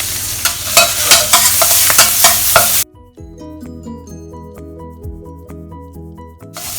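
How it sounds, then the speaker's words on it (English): Chopped garlic and ginger frying in oil in a wok for mapo tofu, first a loud, busy sizzle with rapid stirring scrapes, then cutting abruptly to quieter, tonal clinks and softer background sounds. "fry them around until you can smell the fragrance coming out from them"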